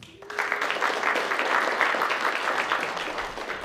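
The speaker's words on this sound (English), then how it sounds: "Applause is expected." Steady, dense applause from a small concert audience at a songwriters-in-the-round show, continuous and fairly close for the full few seconds, with no talk over it.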